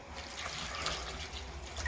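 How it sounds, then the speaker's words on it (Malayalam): Water pours into a curry pan holding green chillies, turmeric, salt and chilli powder, making a short, steady splashing rush up close. "വെള്ളം കൂടെ ഒഴിച്ചു കൊടുക്കാം."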